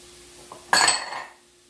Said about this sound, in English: we're gonna go ahead and add our garlic